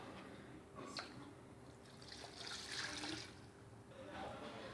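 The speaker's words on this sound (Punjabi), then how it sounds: "1 ਕੱਪ ਪਾਣੀ ਪਾ ਦਾਂਗੀ ਨਾਲ" A cup of water is poured into a pressure cooker holding a goat head seasoned with turmeric, salt, chili and spices, a soft, quiet splashing trickle with faint background noise.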